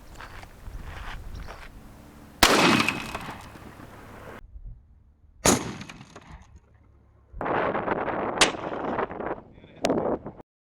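Two sharp, loud gunshots from a .460 or .500 S&W Magnum revolver firing into ham, each a sudden crack with a brief decay. Softer clattering and handling noises fill the gaps, and there is no speech.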